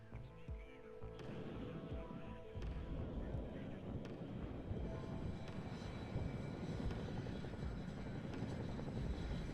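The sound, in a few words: helicopters flying in the WARNO video game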